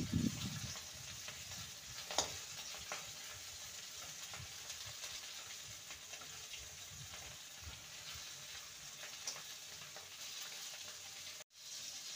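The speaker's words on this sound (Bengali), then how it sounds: "এবার এগুলোকে সাইডগুলো ভালো করে ভেজে নেব" Pieces of snake gourd (chichinga) fry quietly in a pan, making a soft, faint sizzle with scattered small clicks and scrapes. A sharper knock comes near the end, and no one talks.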